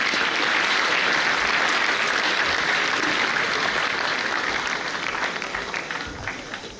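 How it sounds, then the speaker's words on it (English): Audience applause at an education and leadership congress, a full crowd clapping steadily and loudly, slowly thinning and fading toward the end. "A round of applause for Austin."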